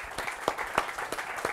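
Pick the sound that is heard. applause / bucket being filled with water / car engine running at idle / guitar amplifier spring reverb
applause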